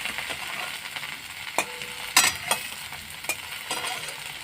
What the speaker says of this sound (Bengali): এবার আমি পাতাটাকে ভালো করে ঢাকা দিয়ে দিয়ে ভেজে নেব পাতাটা ভালো সেদ্ধও হবে ভাজাও হবে